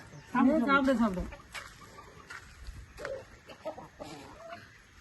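A black chicken gives a loud, close cackling call at the start, followed by softer clucks and background voices talking.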